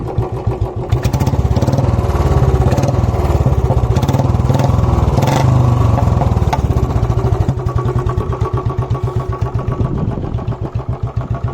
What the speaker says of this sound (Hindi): ये भी भाई बहुत साइलेंट इंजन है, इंजन में भी भाई कोई आवाज़ नहीं आएगी फालतू की ऐसी।